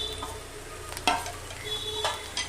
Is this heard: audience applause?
no